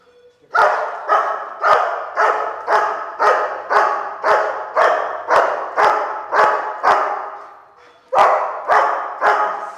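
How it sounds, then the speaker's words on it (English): A dog barks loudly and close by in a steady, even rhythm, about a dozen barks, then pauses briefly before barking a few more times. "The rhythm kind of changed in his barking."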